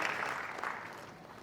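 Audience applause at a gathering of fathers and sons with a Jain spiritual teacher, a brief steady wash of clapping that fades slightly, moderately distant.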